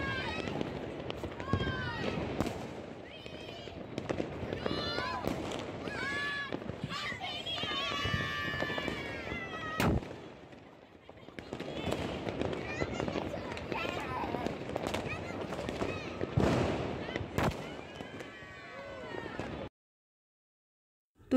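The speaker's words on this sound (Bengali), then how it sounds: "এই তো আতশবাজি শুরু হয়ে গেছে" New Year's Eve fireworks burst over a rooftop celebration, with repeated crackling pops and bangs scattered through a busy mix of people talking and crowd noise, ending abruptly.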